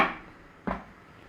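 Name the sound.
lid put on a pan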